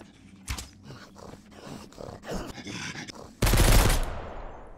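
Gunfire rings out in the zombie survival video game Mist Survival: scattered single shots early on, then a dense, loud burst of rapid fire toward the end.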